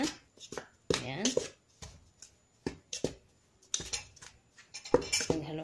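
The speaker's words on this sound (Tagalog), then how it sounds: "paghaluin ko na ang ating all dry ingredients" Dry ingredients and vanilla powder are stirred together in a bowl for Visayan binangkal, with irregular spoon clinks and scraping taps against the bowl, while someone talks over the mixing.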